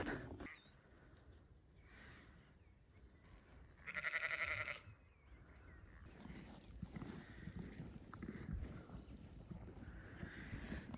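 Ewes that have recently lambed bleat around feeding time on a farm during lambing season, one loud, clear bleat standing out against a steady outdoor background with fainter animal noise.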